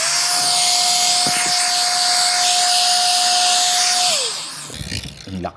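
An inflatable swimming pool air pump runs under test, a loud steady electric whine with a high motor tone that winds down near the end, followed by brief rattling handling noises.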